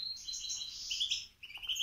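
Goldfinches chirp in quick, bright bursts, a few birds calling close by in cold weather with busy overlapping tweets, a short pause, then more twittering.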